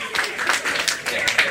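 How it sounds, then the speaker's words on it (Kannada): An audience at a mehandi ceremony claps in loud, uneven bursts of applause, with voices mixed in. "ಒಂಜಿ ಜೋರದ ಚಪ್ಪಾಳೆ ಕೊರಡು ಬಂದು ರಿಕ್ವೆಸ್ಟ್ ಮಾಡಿ"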